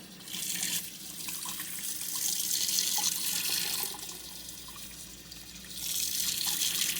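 A tap runs water over a bag of beeswax being rinsed: a steady, close rushing stream that eases off briefly, then surges back, with no talking.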